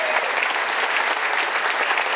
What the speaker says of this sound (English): how about a nice round of applause, welcome them back